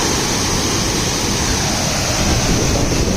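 Bilashi waterfall in the early morning makes a loud, steady rush of falling water, close and unbroken, with no voices over it.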